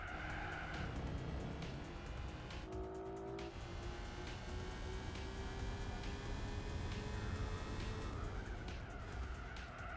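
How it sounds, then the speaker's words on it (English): A Honda NSX drifts in Gran Turismo 4 race, tires squealing in long whines over a constant roaring engine and other racing cars, no voices. "big drift by the NSX"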